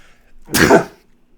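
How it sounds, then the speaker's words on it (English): A single sharp sneeze bursts out close by, brief and forceful, with near silence before and after. "I'm about to sneeze."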